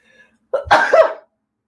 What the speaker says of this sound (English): So sorry about that sneeze